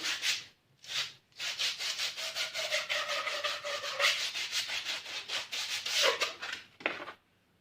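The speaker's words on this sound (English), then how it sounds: "So I'm not going to do anything too much here, just a quick rub down." An old steel bike frame is rubbed down by hand with an abrasive pad. Steady back-and-forth scuffing strokes repeat rhythmically at close range, fairly quiet, with brief pauses and no talking.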